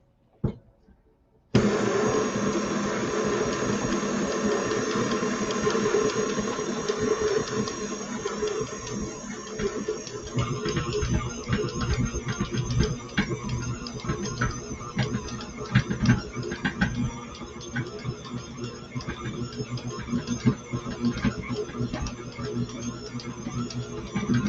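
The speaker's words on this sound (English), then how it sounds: "obviously the struggle was real for my mixer there" An electric hand mixer grinds steadily through thick Christmas cookie batter, a continuous motor whine and churn that roughens and strains in the second half, close and loud with no talking.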